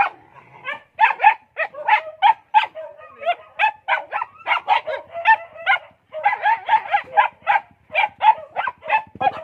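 A dog barks and yips repeatedly in quick, uneven bursts during an anti-rabies injection, with some whimpering between the barks. The sound is close and loud.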